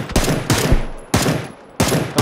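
Four loud, close bursts of automatic gunfire in PUBG, each a short rattling volley separated by brief gaps, laying down suppressing fire.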